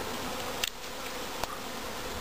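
A swarm of honeybees buzzes as a steady, faint drone throughout, with a couple of brief louder passes as individual bees fly close.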